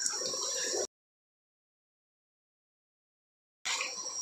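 Ginger seedlings in a polybag being watered, splashing briefly, then a long silence before a second short splash.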